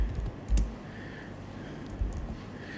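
Computer keyboard typed on in short bursts, a few soft close key clicks with a louder tap near the start and another partway through, no talk.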